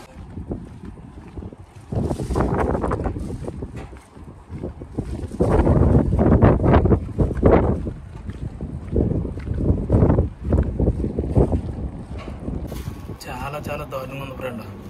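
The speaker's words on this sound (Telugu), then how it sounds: "ఇసుక తుఫాను చాలా భయంకరంగా ఉంది" Sandstorm wind in Kuwait gusting against a tower, loud surging rushes and buffeting that rise and fall in waves, with close microphone wind noise and talk over it.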